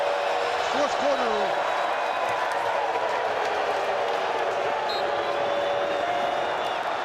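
Loud, constant roar of a stadium crowd at an XFL football game between the Arlington Renegades and St. Louis Battlehawks, filling the whole stretch with dense noise, with a whistle-like tone and some voices rising briefly early on.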